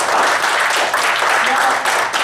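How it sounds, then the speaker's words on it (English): Brief burst of audience applause at an improv student showcase, dense clapping from a small crowd that holds steady and slightly tapers. "so give them a big round of applause."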